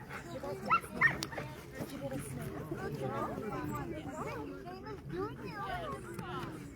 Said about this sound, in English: There's her dog team right there.